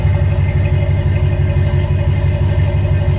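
A RAM 1500 pickup fitted with JBA shorty headers idles loudly and steadily close by, a deep throaty exhaust rumble with a pulsing rhythm and no voices.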